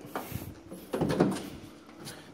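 Doors of a 2015 Ford Transit T-250 high-roof long-wheelbase van swing open in a couple of short, moderately loud mechanical clunks and rattles close by, with no talk over them.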